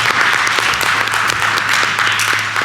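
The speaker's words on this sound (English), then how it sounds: "Let's have a round of applause for that." An audience at a board of education meeting applauds, with loud, dense clapping held steadily throughout.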